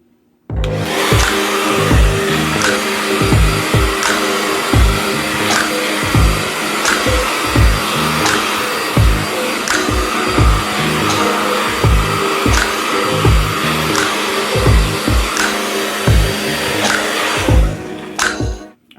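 A hair dryer on high heat and high blow, drying the roots of 4B curly hair: a loud, steady whooshing roar held close for nearly twenty seconds, with a faint rhythmic flutter as the airflow moves through the hair.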